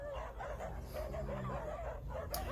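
Dogs in a group engage in a dominance fight, giving off repeated yips, whimpers and short barks over a busy outdoor background.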